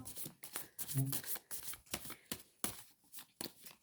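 Tarot cards shuffled by hand before laying out a cross spread, a run of quick papery riffles and flutters, fairly close and moderately quiet, with no talking.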